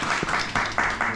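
Brief applause from a small audience, a few close, rhythmic bursts of clapping lasting about a second.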